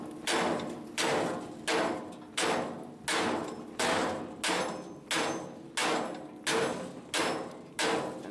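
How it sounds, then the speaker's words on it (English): A rubber mallet strikes a gear in an effort to free a brush part without pullers, about thirteen evenly spaced, fairly loud thuds roughly every 0.6 seconds, each ringing briefly before the next blow, with no talking. "what we're going to try now is maybe just hitting her a couple of times with the rubber mallet on the gear here"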